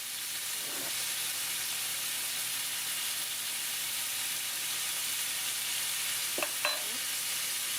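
Flipped food fries in melted butter in a pan, making a constant even hiss and sizzle, close and moderately loud, with a couple of faint clicks from a utensil.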